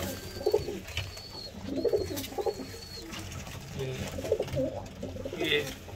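Pigeons in a loft cooing in low, repeated throaty bursts nearby, with someone talking over them.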